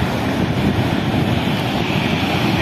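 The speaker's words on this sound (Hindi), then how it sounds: "beautiful waterfall" Water pours steadily over a waterfall at Mohanpura dam in Rajgarh district, a broad, continuous roar close by with wind buffeting the microphone throughout.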